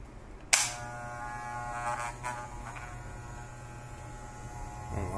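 A Qirui pet grooming clipper switches on with a sharp click and then runs with a steady, close electric buzz and hum that holds evenly to the end.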